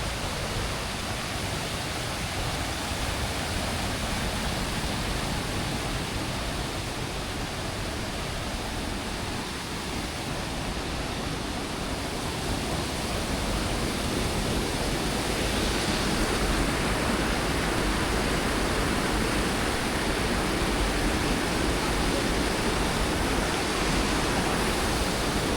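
Waterfall beside a forest hiking loop, a steady, dense roar of falling water that holds at an even level throughout with no pauses.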